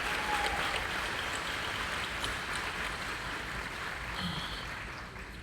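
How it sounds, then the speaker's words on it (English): Steady, dense applause from an audience at a high school graduation ceremony, a continuous broadband clatter of many hands that stays strong throughout and eases only slightly near the end. "I want everyone to give a round of applause for the families here in this audience right now"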